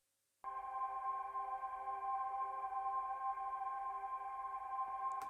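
A bright, high sustained synth pad holds a steady chord, starting abruptly after a short silence and droning evenly without pause.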